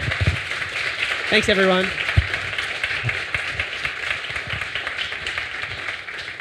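Audience applause for a maths teacher at an evening inspiration talk, steady scattered clapping running throughout while someone briefly speaks over it.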